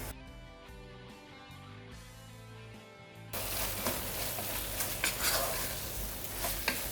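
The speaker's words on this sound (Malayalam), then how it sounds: "ഈ ടൊമാറ്റോ എല്ലാം ഒന്ന് വെന്ത് വരണം. അതിനായിട്ട് ലോ ഫ്ലെയിമിലിട്ടിട്ട് ഒന്നുകൂടെ ഒന്ന് അടച്ച് വെച്ചൊന്ന് കുക്ക് ചെയ്യാം" A tomato mixture for keema biryani cooks in a covered pan on low flame. Soft music plays first, then a dense, steady sizzle and bubbling cut in halfway through and continue alone at moderate loudness.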